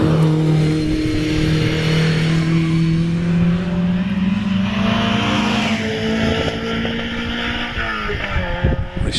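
A race car at the British Championship Hillclimb at Harewood, braking through Quarry and over the finish line, its engine droning loud and steady with pitch sliding up and down as it passes, no talk over it.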